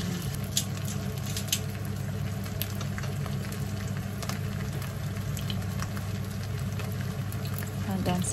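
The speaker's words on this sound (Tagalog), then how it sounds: "Then, iprito na po natin ang ating chicken." Flour-dredged chicken frying in oil for sweet and sour chicken, heard as a loud, close, continuous crackle and spatter with dense popping throughout.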